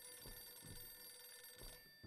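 A telephone rings out in a jump scare in the horror video game Visage, its repeated bursts of ringing spaced apart over a steady electronic hum, loud and alone without any voices.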